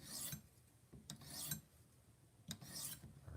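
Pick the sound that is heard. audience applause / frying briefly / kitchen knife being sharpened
kitchen knife being sharpened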